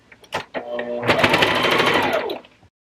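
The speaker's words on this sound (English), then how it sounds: "We're going to kind of base stitch our tunnel together" A sewing machine basting a fabric tunnel for a reusable gift bag runs in a steady, loud buzz for about a second and a half after a few short knocks, then stops.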